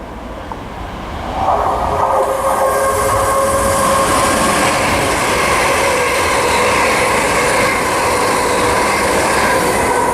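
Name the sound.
ScotRail Class 380 train passing through Linlithgow station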